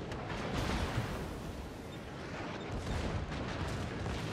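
Battleship guns fire in World of Warships, with a British Nelson among the ships: a dense, continuous rumbling roar of heavy naval gunfire that swells and eases slightly throughout, with no talk.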